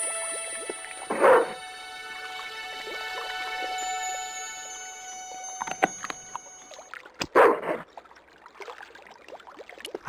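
Dog dunked into water in the Broken Sword II remastered video game, two splashy bursts several seconds apart, set against quiet dockside ambience with sustained tonal music and a few sharp clicks.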